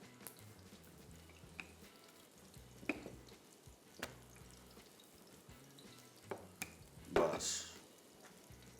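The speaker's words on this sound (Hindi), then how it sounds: "यहाँ पे कबाब धीमी आंच, बिल्कुल हल्की सी आंच पे पकेगा" Paneer, spinach and tomato kebab cooking on very low heat in a pan, a quiet soft sizzle punctuated by scattered clicks and a few sharper spits, with one brief spoken word.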